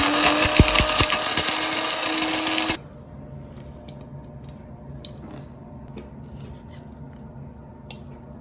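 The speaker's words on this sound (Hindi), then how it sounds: "इनको ग्राइंड कर लेंगे।" An electric spice grinder whirs loudly and steadily for a few seconds as it grinds green cardamom, cloves and black cumin, then cuts off abruptly, leaving a quiet kitchen with faint small clicks.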